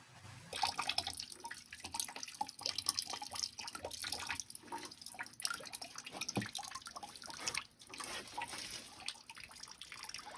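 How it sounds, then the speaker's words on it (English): Irregular drips and splashes of water from house pipes being drained patter over a running, gurgling trickle, close by, with no voices. "sometimes it'll still drip a little bit"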